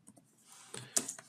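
Typing on a computer keyboard while writing Python code: a brief run of soft, close key clicks ending with a couple of sharper taps.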